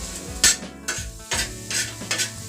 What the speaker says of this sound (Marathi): तव्यावरच ही अशी व्यवस्थित प्रेस करून घेतली ना की बारीक छान भुर्जीचं टेक्स्चर पण येईल